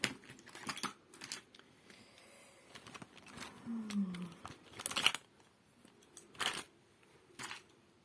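A few small, sharp snips of little scissors cutting crochet yarn, close by and quiet, with soft handling clicks in between.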